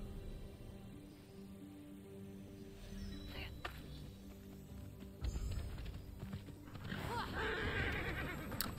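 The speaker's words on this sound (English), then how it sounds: "I was taming the horsey though" A horse being tamed in the video game Immortals Fenyx Rising makes game sounds of neighing and hooves at moderate level, building into a louder stretch of movement toward the end.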